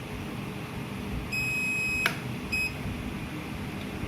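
Continuity beeps from a multimeter probing a motherboard coil and capacitor: a steady electronic tone lasting under a second, a sharp click, then a second short beep, all close and clear over a faint hum.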